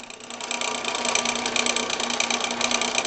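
A stone marble being ground against grooved rubber with a carborundum block makes a steady, close, rapid rhythmic grating that runs without a pause and with no voices.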